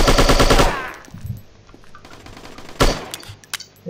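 Automatic gunfire in the shooting game Striker, a rapid loud burst lasting under a second that stops abruptly as the ammo runs out, followed by scattered quieter clicks and a single later shot.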